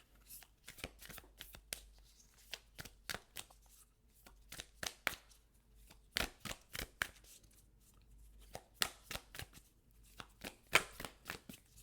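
Moonology oracle cards shuffled by hand in a run of quick, crisp riffling bursts and flicks, close and fairly quiet, with no voices.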